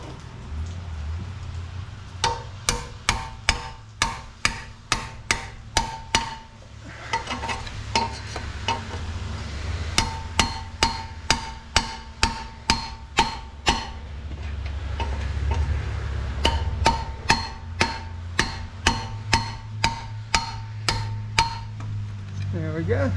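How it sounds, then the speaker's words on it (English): Screwdriver tapped up to punch out a shield under a Lexus GS450H during an axle job, sharp metallic knocks in rapid bursts of ten or more strikes, separated by short pauses, over a low steady background hum. "I'm gonna get my screwdriver, kind of punch it up through there and pop it that way, and it should pop right out"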